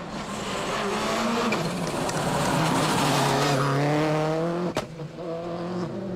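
Subaru rally car, a 1999 ex-works model, driving hard on a rally stage, engine note climbing and falling through gear changes with tires scrabbling and skidding, loud and close throughout with a sharp knock near the end.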